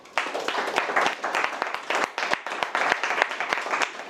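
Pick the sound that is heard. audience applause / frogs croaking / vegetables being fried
audience applause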